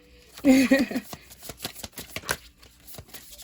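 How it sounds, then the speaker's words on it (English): A tarot deck, the Light Seers Tarot, is shuffled by hand in quick riffling and tapping bursts, close and clear, with a brief murmur of voice near the start. "let's just shuffle the deck"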